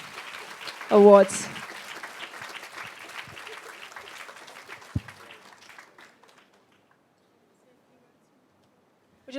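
An audience at a grand finals event applauds the award winner, with clapping that fades out over several seconds, a brief shout near the start and a few words spoken over it.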